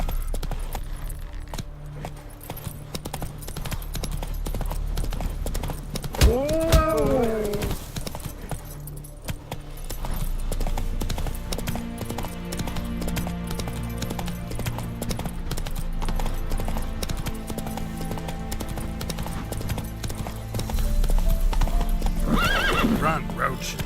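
A horse gallops with steady hoofbeats in The Witcher 3 video game, letting out a clear neigh early on, while tack jingles and ambient game sound carry throughout, and a voice speaks to the horse.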